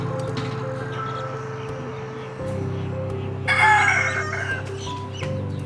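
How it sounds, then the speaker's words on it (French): A rooster in a garden on the island of Raiatea crows once, loud and close, partway through, over a steady low droning hum that fills the background. "il y a des poules dans le jardin en fait et des coqs, donc ils nous réveillent bientôt le matin"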